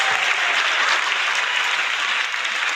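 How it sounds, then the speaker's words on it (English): A canned applause sound effect played on a talk show, a steady, even wash of dense clapping with no voices over it. "Let's hear the applause."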